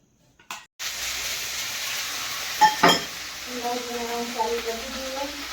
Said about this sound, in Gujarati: વઘાર નાખી